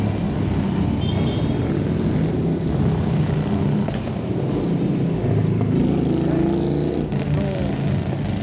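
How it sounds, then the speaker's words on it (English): A steady stream of motorcycles on a charity toy run in Stoke-on-Trent roars past, a loud, continuous blend of engine rumble and revving that swells and fades as the bikes pass close by. "So many bikes coming round here"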